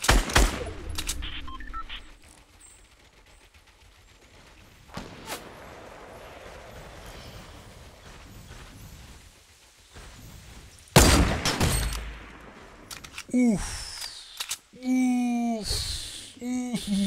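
Gunfire in the Fortnite video game, including sniper shots, comes as bursts of rapid shots and sharp cracks separated by quieter stretches, with a voice heard near the end.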